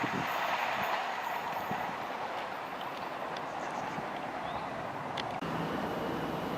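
Transport for Wales train 158827, a diesel unit running the Holyhead service, arrives near the Telford area with a continuous loud rumble and clatter of wheels on rail, then a faint squeal.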